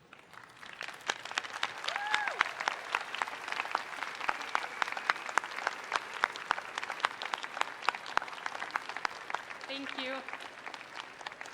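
Graduating seniors at the Mountain View 2019 senior class ceremony applaud their parents and leaders, steady crowd clapping throughout with a few cheers, and a voice briefly speaking near the end.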